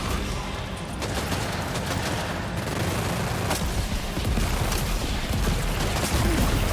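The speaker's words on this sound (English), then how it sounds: "Oh shit, I rocketed myself." Rocket launcher combat in Death Stranding 2: continuous rumbling explosions and rapid crackling impacts, with occasional sharper blasts, loud and close throughout, no talk.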